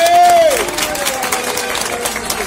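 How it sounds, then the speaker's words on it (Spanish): Applause and cheering from a crowd at a CTA union manifesto reading in Andalusia, a steady wash of clapping with a voice and a whistle-like tone near the start, loud and close. "Un fuerte aplauso para María"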